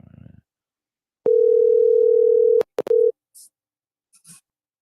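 A phone call ringing out on the line, a steady electronic tone holding for over a second, then a short break and a brief second burst, followed by faint clicks and quiet.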